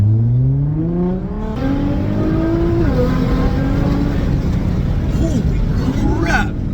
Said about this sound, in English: Titanium exhaust that sound incredible.